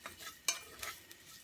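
A spoon stirs sausage gravy in a pan, with a few quiet scrapes and light clinks against the metal in irregular strokes, faint and close.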